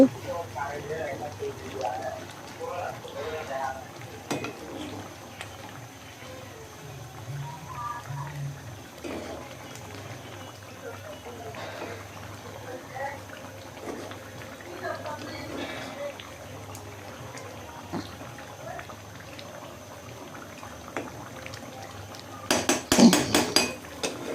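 Metal spatula scraping and clinking against a karahi while pangas fish head and eggplant are turned over, irregular close clatter with a burst of sharper clinks near the end, under speech.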